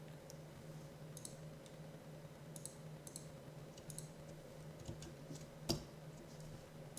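A computer mouse clicks now and then during image-editing work in a scanlation typesetting program, giving sparse, faint taps over a steady low hum, with one sharper click standing out near the end.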